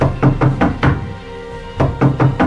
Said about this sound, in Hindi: जब वो बाहर नहीं आया तो इस बार मैंने दरवाजे पर दस्तक देना शुरू किया